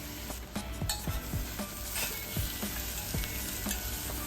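Sliced onions sautéing in oil in a pan for an egg kurma curry: a steady close sizzle with a string of sharp spatula scrapes and clinks against the pan, with no talking.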